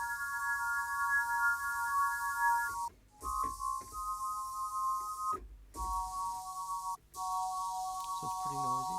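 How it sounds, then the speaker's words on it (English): Sampled bagpipe tone from the Spitfire Piano Book library, played as sustained steady notes on a keyboard that change pitch in steps with short gaps, carried over a constant high-pitched hiss and noisy background. "So it's pretty noisy. There's that high-pitched hiss."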